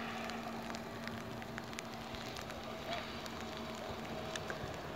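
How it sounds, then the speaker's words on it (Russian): Steady, faint rain pours down at a rained-out outdoor motocross event, a soft continuous hiss with scattered drop patters and no speech over it. "Льет дождь."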